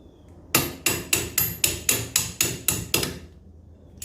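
Hammer blows land while a winch bumper is fitted to a 2016 GMC Colorado, nine sharp, evenly spaced metallic strikes in a steady rhythm, loud and close, then a brief quiet tail.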